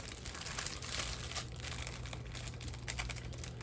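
A diamond painting canvas package is opened, giving a steady plastic crinkling and rustling for a few seconds at close range with no talk over it.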